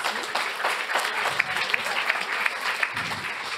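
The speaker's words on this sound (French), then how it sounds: "Je crois qu'on peut vous applaudir." An audience at an insurance talent awards event breaks into steady applause, a dense even wash of clapping hands from a modest crowd with a few louder individual claps and some voices underneath.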